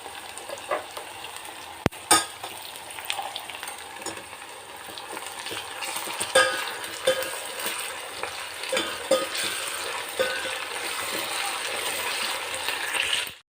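Chopped onion and ginger-garlic paste sizzle steadily in a pan of hot oil for sambar, with occasional stirring scrapes and clinks close by and no talk.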